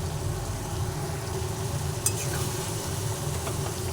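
Chicken curry stirred in a pan, with a soft sizzle under faint scraping and a couple of brief clinks near the middle and end, no voices.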